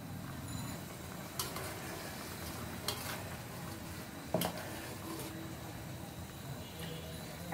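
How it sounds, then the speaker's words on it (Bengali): Chitol fish curry simmers in a pan, giving off a steady close sizzling bubble with a few sharper clinks and pops scattered through it. "দেখো বন্ধুরা মাছের ঝোলটা ফুটে উঠছে"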